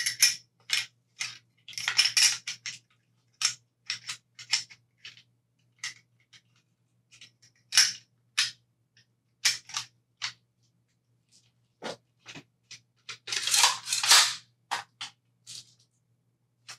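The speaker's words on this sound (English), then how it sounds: "This is a quarter cable nail gun. I mean, it's like a stapler nail gun type beat." A stapler-type nail gun fires 2-inch nails while a canvas is stretched over a frame, giving sharp, close clacks in irregular bursts with short pauses between them. No one speaks.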